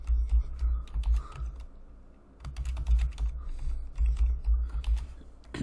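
Keys clatter on a computer keyboard as a password is typed, with rapid clustered taps in two bursts separated by a short pause, close and fairly quiet.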